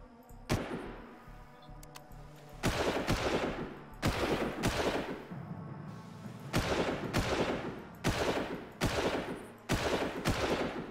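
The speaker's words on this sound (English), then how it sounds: "I may as well just open fire then" Gunfire in the video game Far Cry: repeated bursts of rapid automatic shots, loud and close, coming in clusters of a second or so separated by short pauses.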